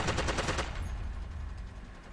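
Rapid machine-gun fire in the multiplayer battlefield game Forgotten Hope 2, a fast burst of close, loud shots at the start that fades into more distant rattling gunfire.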